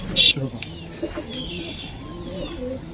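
Pigeons in a breeding loft cooing softly with a few chirps, heard close by under someone talking, with a brief flutter at the start.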